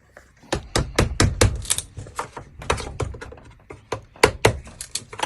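A hammer prying cedar trim boards off a house, giving a dense run of loud, close, sharp knocks and wooden cracks in quick irregular succession, with no talking.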